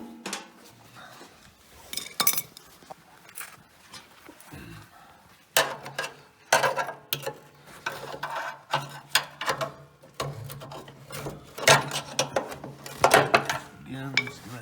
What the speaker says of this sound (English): I just put it on the sprocket with my screwdriver